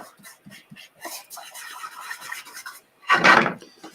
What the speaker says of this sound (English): I'm going to burnish it really well.